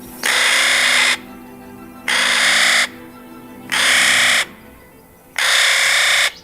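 A Clark's nutcracker on a mountainside gives four loud, harsh, grating calls, each about a second long, evenly spaced with short pauses between them.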